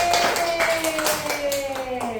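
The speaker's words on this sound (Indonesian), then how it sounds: "Beri tepuk tangan untuk Nicholas." Schoolchildren in a classroom clapping for a classmate, a run of close, fairly rhythmic hand claps with a sustained tone and some voices underneath.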